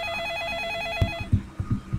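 A telephone rings in the video game Facade with a bright, warbling electronic tone for about a second, then stops and gives way to several soft dull thuds.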